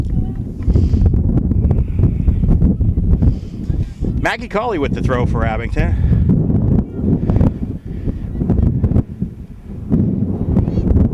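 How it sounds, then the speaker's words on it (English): Strong wind buffets the microphone throughout a girls' high school soccer game, a steady low rumble and roar beneath a voice calling play-by-play. "The wind in now is really howling."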